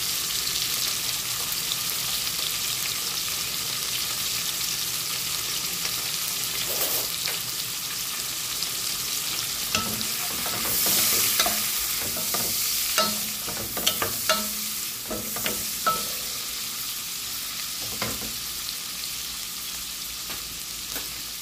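Leftover shrimp stir-fried in a pan, a steady bright sizzle running throughout with scattered clicks and scrapes of stirring growing more frequent in the second half.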